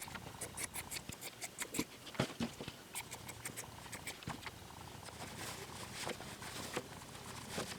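Scissors trim sewn marionette fabric with a run of soft, quick snips and rustling cloth, close and quiet over a faint constant background hiss, with no one speaking.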